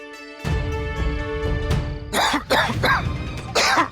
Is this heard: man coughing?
yes